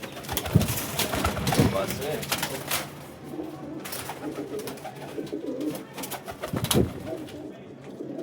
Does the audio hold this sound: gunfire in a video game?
no